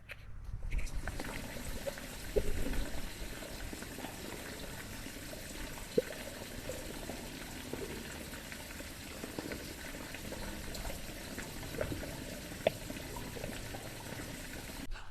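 Water trickling and bubbling down inside an underground borewell, a steady low gurgling wash with a few faint clicks and splashes, continuous and moderately quiet with no talking.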